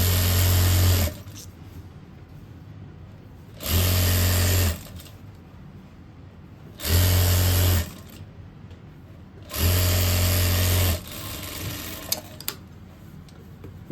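A sewing machine stitches a belt onto a pair of pants in four loud, steady whirring bursts of about a second each, separated by quiet pauses.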